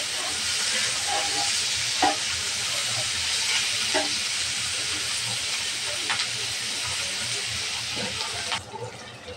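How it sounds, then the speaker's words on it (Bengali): Chopped onion and sliced chilli fry with shrimp in a pan for a bitter gourd stir-fry, a loud steady sizzle and hiss with occasional sharp spatula scrapes and taps, ending with a brief quieter stretch. "দিয়ে দেব পেঁয়াজ কুচি আর মরিচ ফালি। পেঁয়াজটা ভালোভাবে ভেজে নেব।"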